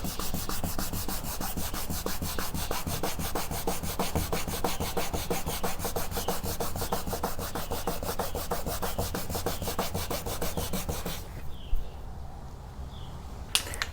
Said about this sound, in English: I'm going to sand it back again, re-shellac it